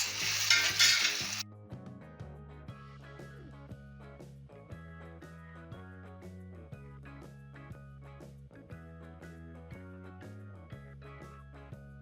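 Loud sizzling of vegetables and tomato paste sautéing in a hot pan for a second or so, then it cuts away to steady rhythmic background music.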